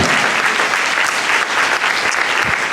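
A church congregation at a Brazilian celebration service applauds the Lord, dense, loud, sustained clapping from many hands filling the room without a break.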